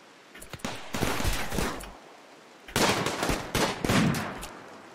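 Automated turrets blast away in RimWorld in two dense bursts of rapid gunfire, each roughly a second and a half long and separated by a short pause. The shots are loud and crackling, with no voices.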